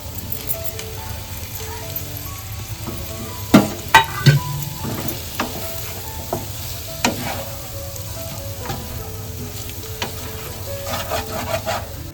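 Paneer cubes frying in ghee and Amul butter, stirred in a pan for a paneer biryani, a continuous close sizzle with scattered clinks and scrapes of a spoon against the pan.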